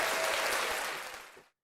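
A studio audience gives a brief round of applause on a talk show that fades out over about a second and a half.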